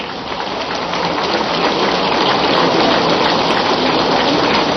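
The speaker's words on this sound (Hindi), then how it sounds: "हमारे जवान घनघोर वर्षा में भीग रहे हैं" Heavy rain pours down steadily in a dense, loud, unbroken hiss at an outdoor Independence Day ceremony in Bhopal, with no voices.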